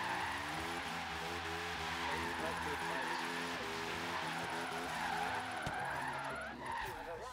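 Tires squeal and skid almost nonstop as a car drifts through a drift zone in Forza Horizon 3, engine droning steadily underneath at close range, with a sharp thump near the end.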